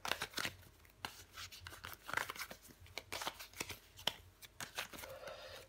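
Tarot cards are handled and shuffled on a table, a soft, close sequence of papery riffles, slaps and slides in quick irregular bursts, quiet overall with no speech.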